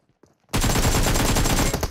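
Automatic gunfire from a PUBG Mobile squad match erupts suddenly after a near-silent moment, a loud, dense burst of rapid shots that continues to the end.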